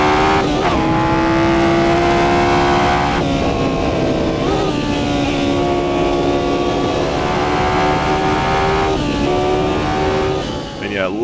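A race car engine roars in a sim racing game, loud and continuous, its pitch climbing through the revs and dropping at each gear change.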